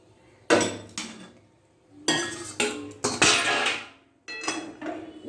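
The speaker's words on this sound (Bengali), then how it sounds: "ডালটা ঢেলে দিচ্ছি।" Cooked dal (lentils) is emptied out of a metal pot, with several sharp clanks and knocks of pot and ladle separated by short pauses, close and without speech.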